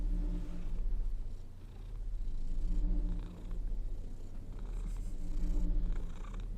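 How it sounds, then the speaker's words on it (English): A cat purrs close up in a soft, continuous rumbling rhythm that swells and fades with each breath, steady and fairly quiet with nothing else around it. "If any of you are hearing this purring"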